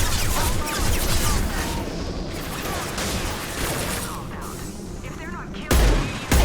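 Dense, continuous gunfire from Krogan fighters in the video game Mass Effect 2, with rapid bursts and heavy booms filling the scene and a loud blast near the end, while a voice speaks briefly over the battle.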